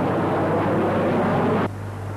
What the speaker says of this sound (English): Accompanied by a Harrier jump jet, these aircraft joined up for a flypast.